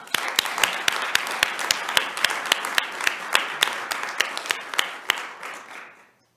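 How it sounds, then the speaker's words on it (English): Audience applause at a keynote lecture on John Dickinson: a steady burst of many hands clapping, moderately loud, with sharp individual claps standing out, fading away near the end, with no talking. "Please join me in applauding them and their work"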